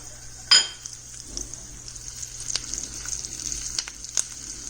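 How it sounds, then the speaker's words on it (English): Green chilies hiss softly in hot tempering oil, with the flame switched off, giving a faint steady sizzle, opening with a sharp metallic clink from a pan or utensil. "I'm just switching off the flame and I'm putting the green chilies to it."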